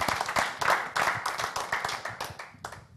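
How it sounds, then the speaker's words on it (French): Audience claps for Jean-Luc Bougrainville on a television culture and music show, a close, lively burst of individual hand claps with distinct sharp slaps, gradually thinning out toward the end. "On va continuer on continue d'applaudir Jean-Louis Bougainville"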